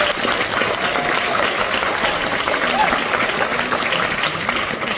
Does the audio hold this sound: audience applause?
yes